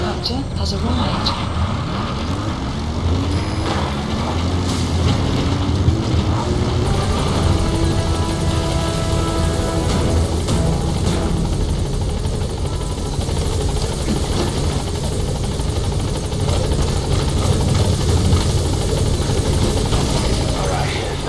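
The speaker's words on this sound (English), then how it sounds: "Support helicopter has arrived." A support helicopter settles onto a landing zone in Metal Gear Solid V, its rotor and engine roar steady and loud throughout, with a voice speaking over the din.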